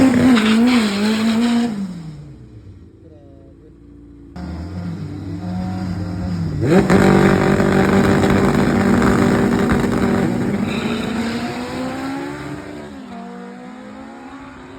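Drag race cars launch at the NDRC drag strip, among them a Honda Civic AWD: loud engines rev and roar, one engine cuts off briefly, then a sustained full-throttle howl with shifting pitch, heard close and without talk.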